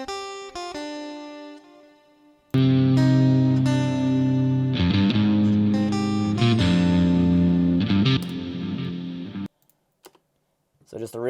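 An electric guitar played through the PolychromeDSP acoustic preset Write Me a Song gives an acoustic-style tone: a few sparse plucked notes, then fuller strummed chords ringing for several seconds before stopping, followed by faint stray sounds.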